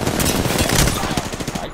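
Rapid automatic gunfire in Apex Legends: a dense, loud, continuous burst of closely packed shots lasting under two seconds, close and dominant.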